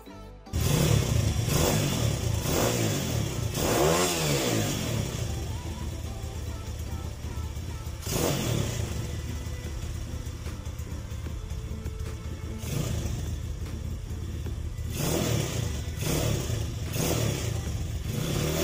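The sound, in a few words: Mini MX Drift 140cc pit bike engine started and revving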